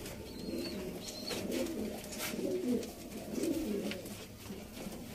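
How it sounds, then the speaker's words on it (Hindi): Sialkoti pigeons cooing nearby, a few soft rolling coos rising and falling in slow phrases over a faint background hum, with no talking. "दोस्तों नायाब सियालकोटी कबूतर।"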